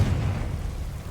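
A deep, rumbling blast from a Confringo fire spell in the video game Hogwarts Legacy, heavy and booming at first, then settling into a dull, fading roar.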